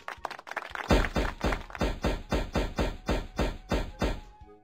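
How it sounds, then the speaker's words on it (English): A woodpecker in a children's animal app drums in a fast run of sharp taps, then a steady series of about a dozen evenly spaced hard knocks, loud and close. "Woodpecker."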